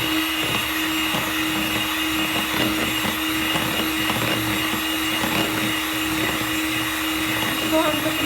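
A hand blender whirs steadily through a milky kulfa mixture with soaked bread, a continuous close motor drone with a steady hum that barely changes for the whole stretch.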